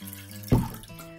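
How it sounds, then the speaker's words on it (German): Water poured into a glass vase holding corkscrew willow branches, a single short splash and gurgle that rises sharply and fades within half a second, close by. "Ich gebe jetzt ein bisschen Wasser rein"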